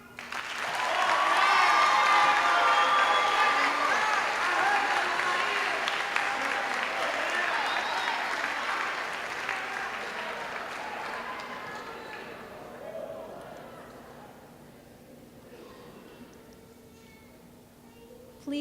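A large audience at a school promotion ceremony applauds steadily, the clapping swelling early and gradually fading away, with some crowd noise mixed in.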